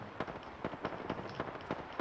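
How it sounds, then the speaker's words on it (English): Rapid bursts of video game gunfire crack out in quick, uneven succession over about two seconds, sharp transient shots fairly close and loud, with no talking over them. "Opening fire."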